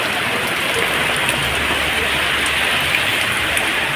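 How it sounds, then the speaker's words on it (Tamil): Heavy rain pours steadily over the Thuraiyur area, a dense, continuous hiss of drops hammering surfaces, loud and close throughout with no voices. "துறையூர் சுற்றுவட்டார பகுதிகளிலும் 1 மணி நேரத்திற்கு மேலாக கனமழை வெளுத்து வாங்கியது"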